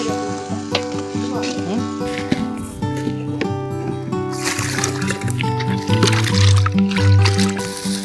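A ladle stirs biryani in a large pot over a fire in a village, giving a continuous sizzle with scraping and churning, steady and close, over a constant tonal hum.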